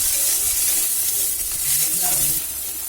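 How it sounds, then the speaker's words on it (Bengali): Tomato and green chilli fry and are stirred in a hot pan for a village-style Bengali fish curry, giving a steady loud sizzle with soft scraping stir strokes throughout. "এবার আমি টমেটোটা দিলাম, করে নেড়ে নিচ্ছি"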